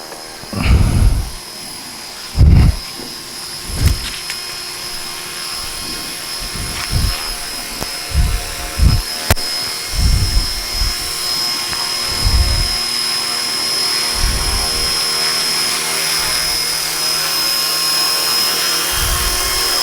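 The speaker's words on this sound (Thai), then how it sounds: "ตอนที่กำลังมันจะลงจอดเนี่ยเราสามารถที่จะเคลื่อนย้ายฮอได้นะครับ" A JR Forza 450 RC helicopter hovers and comes in to land, its rotor whine steady throughout with a string of low thumps and gusts as it settles.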